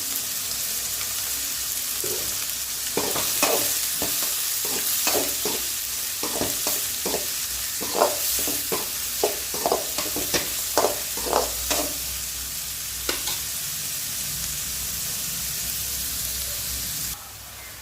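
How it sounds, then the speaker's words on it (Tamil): Onions and a handful of dried red chillies sauté in a pan with a steady, close sizzle, overlaid by a series of rhythmic scraping stirs through the middle of the clip. "வெங்காயம் கூடவே ஒரு கைப்பிடி காஞ்ச மிளகாய் போட்டு வதக்கிக்கலாம்."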